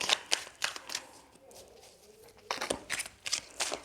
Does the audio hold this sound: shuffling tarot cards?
yes